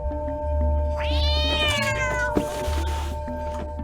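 A cat in the video game Stray lets out a loud, drawn-out meow that rises and then slowly falls, over a low steady game background hum.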